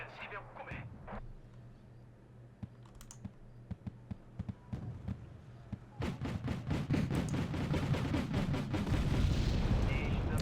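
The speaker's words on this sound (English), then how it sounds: "I heard some autocannons and stuff exploded." Autocannon fire and explosions from a Wargame: Red Dragon Second Korean War campaign battle start sparse and distant among keyboard clicks, then swell into a dense barrage of rapid thumping shots and blasts, with someone talking over it.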